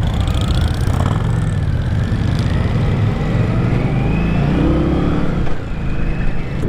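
A 2023 Indian Scout motorcycle's engine revs with a loud, close rumble, holding a steady throbbing note with rising and falling revs and no talking.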